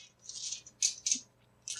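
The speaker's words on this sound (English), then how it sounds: "So many dice, can't fit them in my hand." A handful of dice rattles in a hand during a tabletop game, the clatter coming in several close bursts of shaking with short pauses between them, with no voices.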